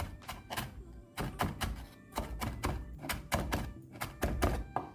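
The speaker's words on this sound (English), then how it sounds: "Chopping like a pro, chopping like a pro." A knife chops fresh cilantro on a cutting board in a steady run of sharp, close thunks, short bursts of rapid strokes separated by brief pauses, with no talking.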